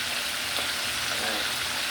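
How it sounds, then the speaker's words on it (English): Porgy fish frying in a pan of hot oil, a steady broadband sizzle and crackle that holds evenly throughout without pause, close and moderately loud. "So we're frying the fish"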